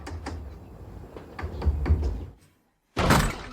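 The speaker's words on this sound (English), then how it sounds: "I've been knocking forever, no answer." Knocking on a door in an animated fantasy series, a rhythmic series of knocks at close range followed by a pause and a louder burst of noise.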